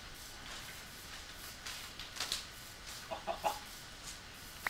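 Chickens clucking in Minecraft, a few quiet short clucks scattered then a quick run of three soft clucks, faint and close over a hushed ambient background.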